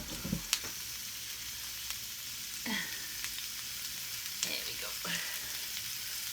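Cauliflower, jackfruit, sweet potato and onion fry in olive oil with a steady close sizzle, broken by a few stirring clacks, and a voice speaks briefly near the start.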